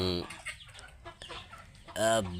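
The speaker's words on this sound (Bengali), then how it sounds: "মুরগিগুলো কিভাবে সেই মুরগি ধরার জাদুতে কাছে চলে আসছে" Chickens cluck in bursts as they gather close for food, harmonic calls starting and stopping, with a loud nearby squawk near the end.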